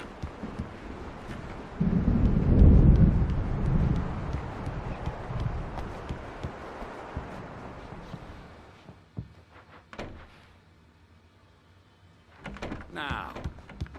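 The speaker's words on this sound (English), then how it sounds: "The storm is almost here." Rolling thunder from an approaching storm in Alan Wake Remastered, a deep loud rumble swelling then fading under continuing ambient sound, with a few sharp knocks and a brief later burst.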